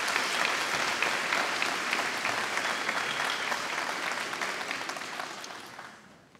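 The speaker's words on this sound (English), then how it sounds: "a huge round of applause for Joe and all the work he did" Broad, energetic applause from a graduation ceremony audience at Coláiste Chiaráin, many hands clapping in a dense roar that gradually fades away over several seconds before a final lone clap.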